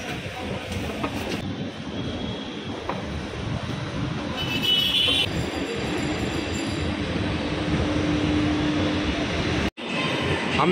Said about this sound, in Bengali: আমি এখন ক্ষুদিরাম স্টেশনে দাঁড়িয়ে আছি মেট্রো ধরার জন্য